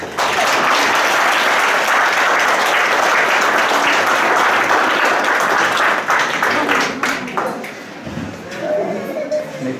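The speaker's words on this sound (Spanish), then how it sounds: "Vosotros fuerte aplauso para los esposos." Wedding guests applaud the newlyweds at the close of a church ceremony, loud continuous clapping from a full crowd that thins out after about seven seconds, giving way to scattered claps and voices.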